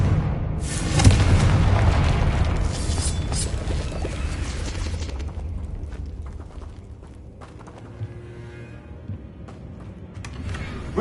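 A Confringo fire spell explodes in Hogwarts Legacy with a loud, booming blast that rolls into crackling, clattering debris and fades slowly over several seconds.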